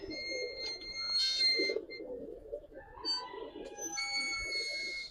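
A male Dubaj pigeon at a Bangladeshi pigeon farm coos in short, close repeated phrases, with faint chirps of other birds around it.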